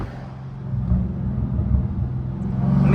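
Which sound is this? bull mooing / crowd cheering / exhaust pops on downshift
exhaust pops on downshift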